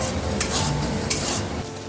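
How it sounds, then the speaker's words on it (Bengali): Tomato paste and spices fry in a pan with a dense, close bubbling sizzle, and a spoon scrapes the pan twice during the short stretch. "এবারে টমেটোর পেস্টটা দিয়ে দেওয়া হচ্ছে, নাড়াচাড়া করো, দিয়ে ভালো করে মশলাটাকে কষিয়ে নেওয়া হবে।"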